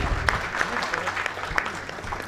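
An audience at a poetry tribute awards ceremony claps to welcome a trophy recipient, a short, moderate burst of scattered handclaps with voices audible underneath.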